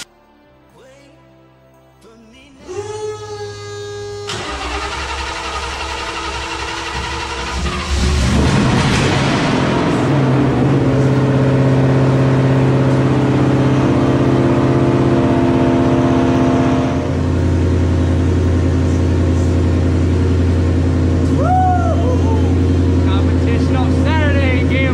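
A drift car's newly fitted engine cranks, catches and idles, then revs hard and settles into a loud, sustained roar close by, with people talking over it.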